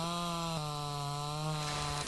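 A chainsaw in the survival game Mist Survival cuts through tree stumps with a steady, loud engine drone that holds a constant pitch, dipping briefly before running on alone.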